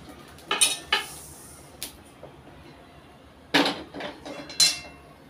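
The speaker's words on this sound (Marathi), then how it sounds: "ओवा भाजून घेत आहे" Ajwain (carom seeds) dry roasting in a pan, heard as sparse, sharp metallic clinks and scrapes of a utensil against the pan, several distinct knocks spaced irregularly over a quiet background, with no talk.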